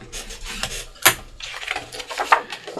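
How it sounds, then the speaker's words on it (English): A paper fold being burnished by hand for a lay-flat ephemera folio, heard as a few soft rubbing and rasping strokes with one sharper crackle of creased paper, close and fairly quiet. "give that a burnish"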